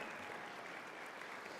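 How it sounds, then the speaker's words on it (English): Faint, steady audience applause at an Iditarod pre-race gala show, honoring the mushers and their dog teams, heard as a continuous wash of clapping from a distance. "One last round of applause, if you will, for all of the mushers and their dog teams."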